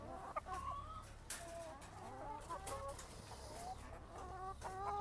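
Layer hens cluck and chatter in short, overlapping calls. The birds sound fairly close against a soft, low background hum, and no one speaks.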